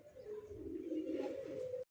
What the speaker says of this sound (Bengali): দুই দুইটা কবুতর বডি ফিটনেস মাশাআল্লাহ খুব সুন্দর